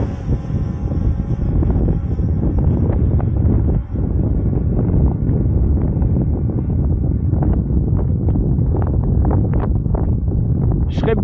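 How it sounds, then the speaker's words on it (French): Strong wind blows outdoors near woods during a first test flight of an SG906 MAX3 drone, a loud, steady broadband rush and buffeting across the mic that fills the whole stretch with only a brief dip near the middle. "Tout ce que je sais, c'est que là, il y a beaucoup de vent"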